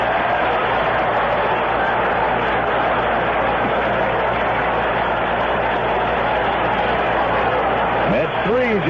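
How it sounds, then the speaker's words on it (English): Crowd at a 1970 Mets versus Giants baseball game reacts to a catch in the stands, a steady dense roar of many voices filling the whole stretch at moderate loudness. "Crowd reaction to a catch made in the stand."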